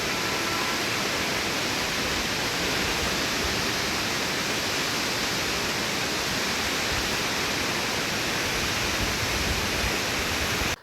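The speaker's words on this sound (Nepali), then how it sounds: "झरनाहरू सामान्यतया नदीको माथिल्लो प्रवाहमा बग्ने गर्दछन्।" The Phungphunge waterfall roars as a continuous, even broadband rush of falling water, loud and unchanging throughout before it cuts off abruptly at the end.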